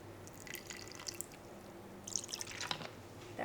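Melted butter and a teaspoon of vanilla are poured into a bowl for cowboy cookie dough, giving soft, faint trickles and a few small drips over a quiet kitchen background.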